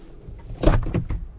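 A short car door click and thunk, heard close, a single opening movement with a couple of quick mechanical knocks.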